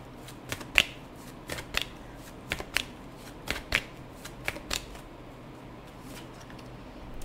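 Tarot cards are handled and shuffled in a pick-a-card reading, producing a sparse series of crisp, close card snaps and flicks in small irregular clusters over a quiet room, with no talking.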